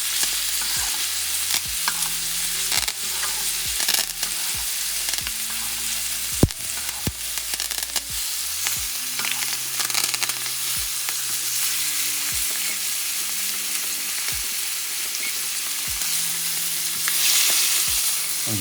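Duck breast frying in its own rendered grease with thyme in a pan, a loud continuous sizzle with sharp spits and crackles and occasional low thumps, no voices.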